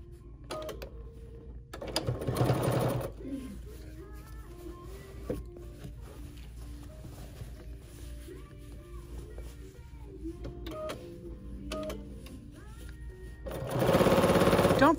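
A BERNINA sewing machine stitches binding with foot #71 in two short, loud bursts of motor whir near the start and end, separated by quieter handling noise.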